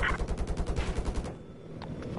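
Rapid automatic gunfire in the video game Battlefield 4, a fast burst of about a dozen loud shots in quick rhythm lasting over a second, then a fading tail with a faint distant shot.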